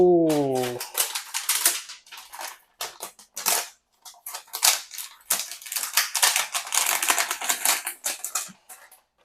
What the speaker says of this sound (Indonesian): Kita coba buka plastik berikutnya.